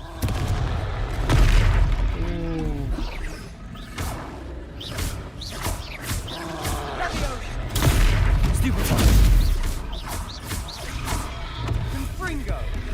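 Confringo blasting-spell explosions in the Hogwarts Legacy video game, several loud booms with whooshes amid combat effects and music, while people talk over the fighting.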